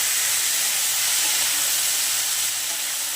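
Beans, eggplant and peas hit a hot pan, giving a loud, dense, continuous hiss of sizzling that holds steady for a few seconds and then eases slightly, with no voices.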